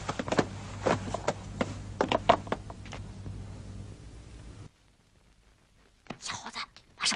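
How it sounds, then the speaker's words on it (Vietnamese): A dog breathes and gives short, intermittent whimpers or pants at close range over a low background hum, then a quiet pause, and finally a brief burst of sound, with no clear speech. "Chó ta, mau sang nào qua đây."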